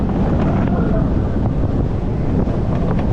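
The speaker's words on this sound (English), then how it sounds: "Oh, and into the brake run. Oh, comes in fast there, doesn't it? That's the Mayan roller coaster." Mayan roller coaster at Energylandia rushing into its brake run, a loud steady roar of wind and rumbling track noise throughout, with faint voices underneath.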